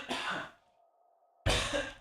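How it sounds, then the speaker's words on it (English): Two harsh coughs from a man with the flu, one at the start and another after a short quiet gap, close and fairly loud. "Making me cough and everything."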